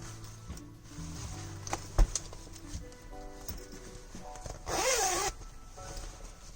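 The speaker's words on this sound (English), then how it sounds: "Zippers here and there." A zipper on a leather biker jacket is pulled in a quick, close rasping burst, with a few soft handling rustles and taps around it.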